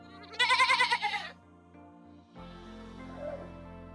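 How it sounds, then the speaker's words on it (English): A wavering, nasal goat bleat close by, followed by a softer, lower second call. "G is for goat."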